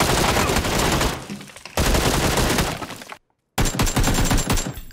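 Rapid bursts of automatic gunfire from a teammate shooting at the player in a competitive online shooter match, loud and dense with a short silent gap near the end.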